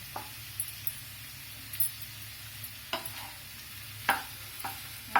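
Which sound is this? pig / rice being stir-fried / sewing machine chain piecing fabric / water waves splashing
rice being stir-fried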